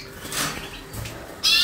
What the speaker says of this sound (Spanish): Estos son 4 pájaros que hay apartado aquí